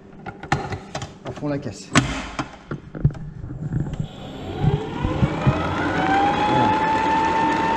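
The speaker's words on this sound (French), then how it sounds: "c'est bien chaud, je mets à tourner ici au batteur" An electric hand mixer whisks hot meringue in a bowl, its motor whirring loudly and steadily after clatter and knocks at the start, with a person speaking briefly over it.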